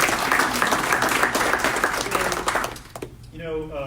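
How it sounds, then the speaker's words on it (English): An audience at a 1 Million Cups community anniversary event in Round Rock gives a dense round of clapping that fades out after about three seconds, and a voice starts speaking at the end. "round of applause for everybody that we are one of the communities"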